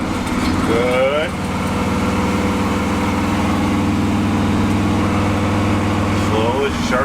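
A 1966 Chevy truck engine running as it drives on the road, a steady low rumbling drone throughout, close and loud, with voices talking over it.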